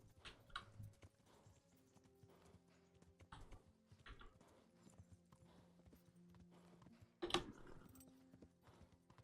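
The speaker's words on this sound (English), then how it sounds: "I hear my horse getting tired." A horse gallops in the video game Kingdom Come: Deliverance, with faint, rapid clip-clop hoofbeats going on steadily and a brief louder burst near the end.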